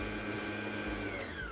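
An electric mixer whirs steadily through Prosecco pear cake batter, a continuous motor hum that holds even and close.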